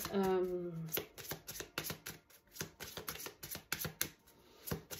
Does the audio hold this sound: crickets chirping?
no